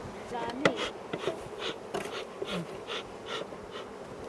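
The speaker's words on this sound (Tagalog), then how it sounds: "Gagalit ulit yung bubuyog." Buzzing of honeybees close by at a beekeeping hive, rising and falling in short bursts, with faint voices and breathing sounds mixed in.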